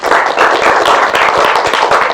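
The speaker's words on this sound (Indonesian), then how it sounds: "tepuk tangan untuk kelompok 2" A classroom of students applauds a presenting group, with dense, steady clapping from many hands filling the room at an even loudness throughout.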